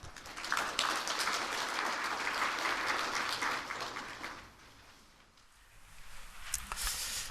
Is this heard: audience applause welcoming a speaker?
yes